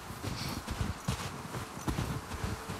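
Hooves clip-clop in a brisk, uneven walking rhythm as horses move along in The Last of Us Part II, fairly close against a breezy ambient bed.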